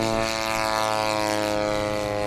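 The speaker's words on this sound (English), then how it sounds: "We've got everything from 20 cc's all the way up to 200 cc engines on the field today." A balsa-built radio-controlled warbird's gas engine, somewhere between 20 cc and 200 cc, drones loudly and steadily overhead at a Michigan model airplane event, a constant buzzing propeller tone with no pause.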